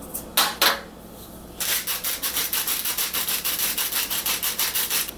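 Oatmeal stuffing mixed with pecans, cranberries, rosemary, thyme, garlic powder, salt and pepper, giving a steady run of close, rhythmic scraping strokes after a couple of brief knocks.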